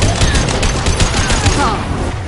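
Rapid gunfire from a firefight in the video game Mass Effect 2, a loud, dense volley of repeated shots in quick succession with no pauses, close and harsh.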